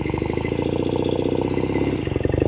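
A 1970 Royal Enfield Interceptor 750 Mk II motorcycle engine runs with a steady, loud, close throbbing rumble, holding an even pace throughout with no talking.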